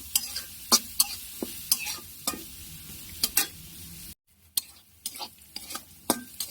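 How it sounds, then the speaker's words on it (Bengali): Garlic fries in a pan under a constant low sizzle while a utensil stirs and scrapes in quick, repeated strokes, up close; the sound briefly drops out midway. "এখন এগুলো আমি লাল লাল করে ভেজে নেব।"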